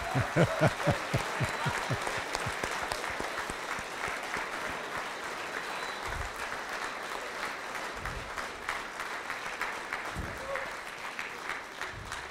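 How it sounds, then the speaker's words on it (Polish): Loud, sustained applause from an audience greets a performer taking the stage for the first time at a talent-style concert, steady dense clapping for about twelve seconds with a few voices mixed in. "Też gromkimi brawami witamy go."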